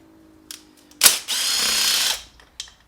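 Pneumatic impact gun on its lowest setting loosening bolts on a Mercedes SL55 AMG with the M113K engine, a sharp burst followed by a steady, loud whirring run of about a second, with short mechanical clicks before and after.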